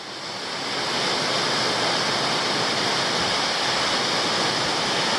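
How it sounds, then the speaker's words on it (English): A powerful waterfall, Meander Falls in Tasmania, roars steadily, a loud, constant rushing wash of water that swells in at the start and then holds. "it's a really massive waterfall"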